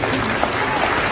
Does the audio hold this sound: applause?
yes